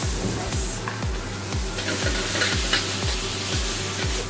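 Noodles stir-fried with onions, red pepper, mushrooms and bok choy for a vegetarian street-food dish, a steady close sizzle with regular scraping stirs throughout.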